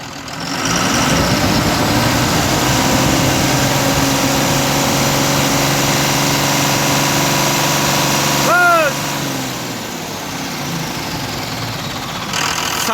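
Tata BS4 diesel engine held at full throttle, a loud steady rumbling drone that runs continuously and eases slightly near the end, with a short squeak partway through.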